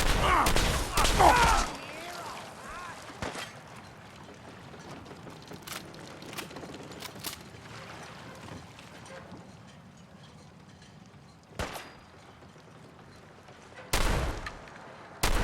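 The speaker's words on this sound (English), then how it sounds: "Returning fire." Gunfire in the video game Fallout 4: a loud burst of shots at the start, then quieter ambience, with isolated sharp reports near the end.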